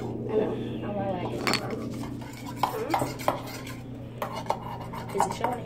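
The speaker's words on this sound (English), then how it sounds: "so now I'm just like mixing it a little bit" Slime being stirred and mixed in a plastic container with a utensil: soft squelching and repeated light scraping clicks, close and fairly quiet, with people talking underneath.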